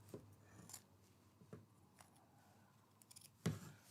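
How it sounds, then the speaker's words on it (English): Scissors snip through the seams of a shirt in a few quiet, separate cuts, the last one louder and crisper, with soft fabric rustling between them. "I'm going to use a pair of scissors right here"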